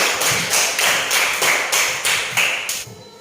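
A classroom of students claps on cue, a burst of quick, dense hand claps in a steady rhythm that stops abruptly after about three seconds, with no talking over it.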